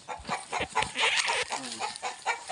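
Two mother hens sharing one nest cluck close by, a busy run of short, overlapping clucks and squawks with no talking.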